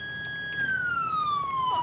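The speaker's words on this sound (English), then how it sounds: "we're gonna search his vehicle after I turn my sirens off." A police car siren in the video game GTA 5 with the LSPDFR mod wails in one long descending tone, loud and close, with engine noise beneath.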